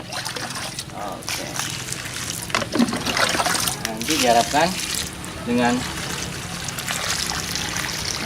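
A bucket of water poured over goat manure compost mixed with spent mushroom logs, a steady trickling splash running under a man's speech.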